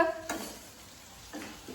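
A tadka tempering for dal and paneer sizzles quietly in a pan, a soft frying hiss with two short bursts of louder sizzle as the spices are stirred.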